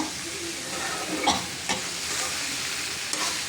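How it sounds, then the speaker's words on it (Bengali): Garden leafy greens frying in oil crackle in a steady close sizzle, broken by a few sharp stirring scrapes and taps, with no speech. "শাকটা হয়ে গেছে, তেলের ভিতরে ভাজলাম শাকটা"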